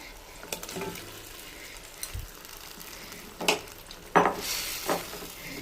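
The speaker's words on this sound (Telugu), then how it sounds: "ఇప్పుడు బాగా కలుపుకొనేసి మన చికెన్ వేసేసుకున్నాము" Chicken curry stirred in a pot of hot oil, with a low steady sizzle and a few louder scraping stirs near the end, close and without talk.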